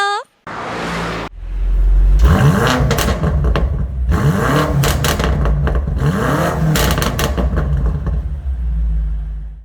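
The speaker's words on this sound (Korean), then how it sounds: "오늘은 시작부터 배기음 먼저 듣고 갑니다" A 2019 BMW M5 sports sedan engine revs hard several times in a row, loud and close, with rising and falling exhaust roars over a steady idle rumble.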